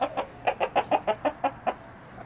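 A Rhode Island Red hen clucks close by in a quick, even series of about ten short, throaty clucks, then falls quiet.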